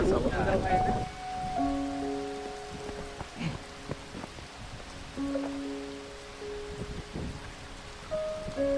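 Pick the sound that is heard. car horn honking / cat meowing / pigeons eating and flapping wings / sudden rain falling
sudden rain falling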